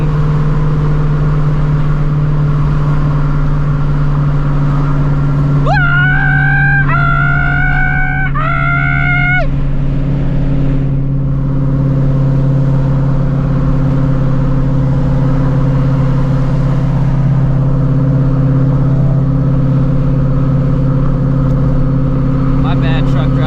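A 900HP Shelby GT350 drones steadily at speed, with a strong low engine hum underneath and a few rising gear pulls around the middle, heard from inside the car with some voice-like sounds over it.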